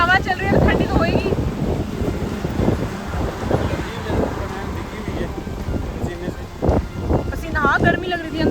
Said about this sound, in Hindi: हवा कितनी तेज है, बहुत तेज हवा।